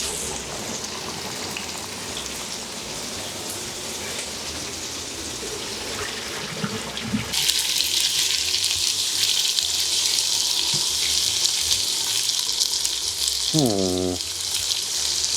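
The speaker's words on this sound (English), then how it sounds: "So we're gonna go ahead and drain this." Cooked pasta and its hot water poured into a kitchen sink: a soft background hiss gives way to a sudden loud, sustained rush of splashing water, with a brief clunk near the end.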